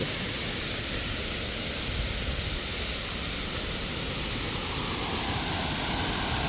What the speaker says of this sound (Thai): จากที่จุดจอดรถนะ เราก็จะพบกับน้ำตกชั้นสี่